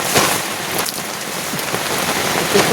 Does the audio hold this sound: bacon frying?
no